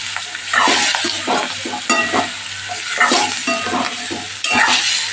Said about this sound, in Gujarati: બધું સરસ આપણે મિક્સ કરી લઈશું